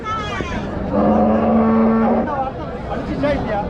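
Cattle at a busy livestock market in Uthangarai give a long, loud, close moo that swells and then fades, with crowd murmur and distant voices underneath.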